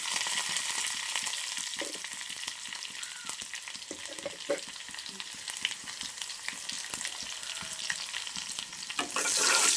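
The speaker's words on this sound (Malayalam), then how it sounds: "ചട്ടി ചൂടായപ്പോൾ എണ്ണ ഒഴിച്ച് കടുകിട്ട്" Mustard seeds frying in hot oil in a heated pan over low flame, a dense crackling sizzle with scattered pops and light stirring scrapes, close and steady throughout with no voices.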